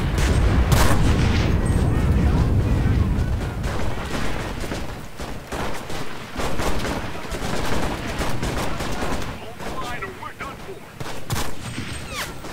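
Machine gun fire rattles through a battle in Enlisted, with dense bursts and heavier distant booms layered over one another, loud and chaotic at first and then in sparser rattling bursts.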